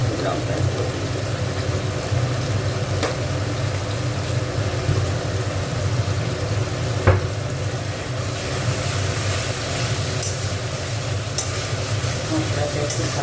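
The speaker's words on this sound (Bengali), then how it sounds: "মশলাটা একটু ভালো করে কষিয়ে নেব।" Masala seasoned with Kashmiri chili powder frying for a katla fish tail dish, giving a steady close sizzle and hiss for the whole stretch, with a few sharp scrape or stir knocks.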